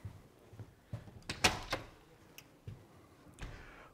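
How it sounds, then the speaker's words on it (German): A door under a door frame is opened, giving a series of soft clicks and knocks from the latch and hinges, then a brief swing noise, quiet and close in a calm room. "sondern ich mache zuerst die Tür auf."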